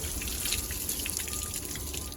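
Water sloshes and splashes inside a junked 1997 Cadillac DeVille, a continuous, close gurgling wash with bright spattering and a faint tonal whine underneath.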